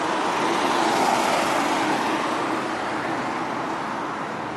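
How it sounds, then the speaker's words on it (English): Red Rose Transit Authority bus riding through traffic, a loud, continuous broadband rumble of engine and road noise that stays steady with no talking. "I'll be taking the Red Rose Transit Authority bus from here to Lancaster City."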